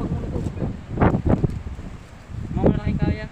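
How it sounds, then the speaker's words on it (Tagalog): Strong wind gusting by the sea on Occidental Mindoro's shore, a broad rushing roar that swells in bursts, with people talking nearby. "Malakas ang hangin."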